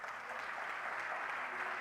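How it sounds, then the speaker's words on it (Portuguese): Continuous applause from a church congregation, even and sustained, heard at moderate distance. "Você pode aplaudir a Deus."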